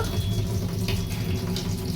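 A Kent water purifier tap runs steadily into a container, a continuous close splashing flow of filtered water with no pauses and no voices.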